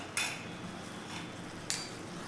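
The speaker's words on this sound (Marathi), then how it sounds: "आपण हे व्यवस्थित असं हलवून घ्यायचं आहे, म्हणजे आपला गूळ देखील यामध्ये व्यवस्थित असा मिक्स होईल।" A metal spoon stirs jaggery into hot tea in a pot, giving two brief, sharp clinks against the rim over a quiet background.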